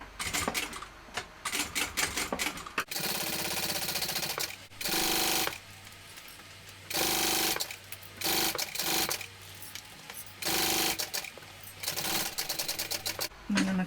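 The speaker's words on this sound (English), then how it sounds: "I'm going to go ahead and sew the open edge of my strap" Sewing machine stitching the open edge of a small strap an eighth of an inch in, loud rapid needle clatter in several long runs broken by brief stops, close up.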